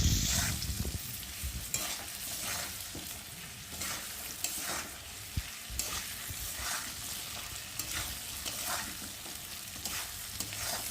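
Spices with turmeric being sautéd for a hilsa fish curry, a continuous close sizzle with repeated rhythmic stirring and scraping strokes in the pan.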